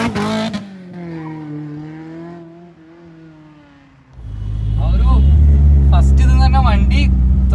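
A Maruti Suzuki Zen fitted with a G16B engine driven hard, its engine note rising from a lower drone into a loud, sustained high-rev roar as it accelerates, with faint talk early on.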